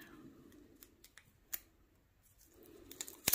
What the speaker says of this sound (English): I'm going to tape off an edge